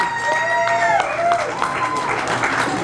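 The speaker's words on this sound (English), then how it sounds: "Both teams, let's give these guys," A crowd at an ATV racing event applauds the competing teams, scattered claps rising under a loud amplified voice, with harmonic tones sliding and fading through the middle.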